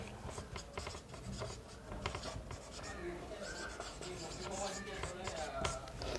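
Chalk or marker writing on a classroom board, a steady scratchy rubbing of strokes running continuously beneath a teacher's speech about angles in a Class 9 maths lesson.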